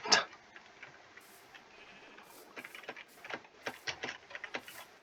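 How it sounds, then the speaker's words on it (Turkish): Sheep bleat in Minecraft, a sharp call at the start followed by several quieter, clustered bleats over a faint background of ticking game sounds. "koyun lan."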